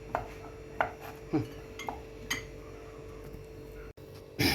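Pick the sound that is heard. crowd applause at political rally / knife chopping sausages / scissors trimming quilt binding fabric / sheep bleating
knife chopping sausages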